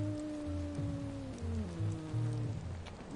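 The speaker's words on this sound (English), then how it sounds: "Enjoy the beautiful rain." Rain falls steadily in the video game Watch Dogs, a dense patter on surfaces with faint tonal music lines running underneath.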